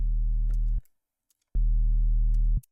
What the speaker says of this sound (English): I'm choosing analog BD sine because it just means that it already has a few harmonics drawn in